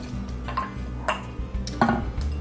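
Canned cooked beef stew going into a pan: a few close scraping and clanking hits of utensil against metal, with soft wet shifting between them and no talking.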